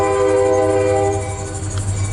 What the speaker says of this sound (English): you can hear the train in the background